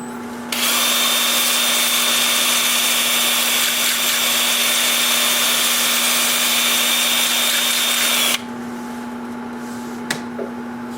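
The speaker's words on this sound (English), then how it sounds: "Time for sanding." A steady, even whirring hiss of a healed-over branch section being sanded at 150 grit on a spinning wood lathe, loud and unbroken for several seconds before cutting off to a quieter motor hum.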